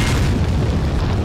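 Grenade explosion in the Resident Evil 4 video game, a dense, loud, sustained boom that fills the whole brief moment with heavy low rumble.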